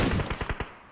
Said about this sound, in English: Takes a couple of shots to Vine